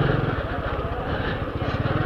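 A Honda Biz 125 motorcycle being ridden, its small engine putting out a steady pulsing putter close to the microphone, with faint wind noise throughout.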